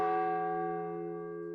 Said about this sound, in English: Then the big bell struck 1.